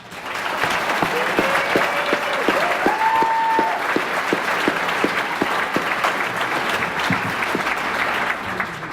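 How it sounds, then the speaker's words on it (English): Audience at a school athletic awards banquet applauds, dense sustained clapping with crisp individual claps throughout, loud and even across the whole stretch, with a brief faint tone rising in the middle. "give those two a big round of applause"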